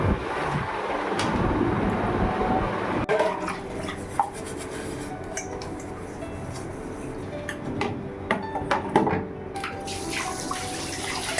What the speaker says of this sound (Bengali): খাওয়া দাওয়া হওয়ার পর খানিকটা বাসন জমেছিল, সেটাকে ধুয়ে নিচ্ছি।